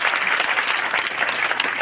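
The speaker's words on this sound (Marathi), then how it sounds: "पालकमंत्र्यांची जोरदार टाळ्या वाजवा" Dense, loud applause from an audience at a community hall inauguration, honoring the guardian minister, steady clapping sustained without pause and heard alone.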